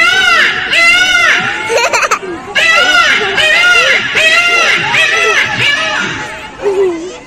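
On stage at a women's group comedy show in Nagpur, a mimicry performer voices a peacock call: a string of loud, high, arching cries repeated in quick bursts, with brief gaps between them.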